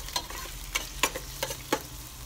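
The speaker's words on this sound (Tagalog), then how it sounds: "Igisa lang po natin yan." Ginger sautéing in hot oil in a pan, a continuous sizzle broken by several sharp stirring clicks and scrapes at irregular intervals.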